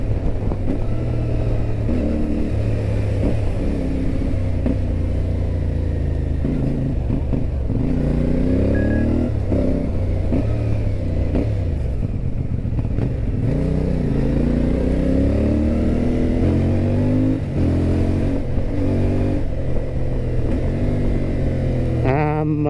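A CFMOTO 450 MT adventure motorcycle engine on a test ride, heard up close as a continuous growl whose pitch repeatedly rises and falls with revving.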